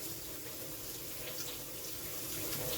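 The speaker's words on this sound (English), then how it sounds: "I'm just gonna run these sweet potatoes under some hot water." Hot tap water runs steadily over sweet potatoes in a kitchen sink, a continuous close hiss of flowing water with no voices.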